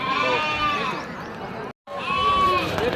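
Sheep and lambs bleat at a Kadiri sheep and goat market, several wavering calls close by in quick succession with a brief silent gap midway, set against busy market background noise.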